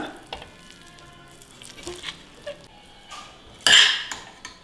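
A spoon scrapes and taps against a metal pressure cooker as spinach rice pulao is stirred, with light clinks and one louder clatter near the end, close up.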